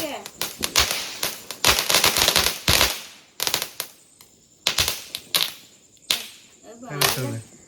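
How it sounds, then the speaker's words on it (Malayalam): Firecrackers at a Vishu celebration burst in rapid crackling volleys, loud and sharp, with short pauses between strings of pops and a few voices in the background. "അപ്പൊ പടക്കം പൊട്ടിക്കടാ"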